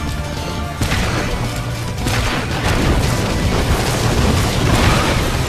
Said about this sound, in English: firing all your grenades at once does help, guys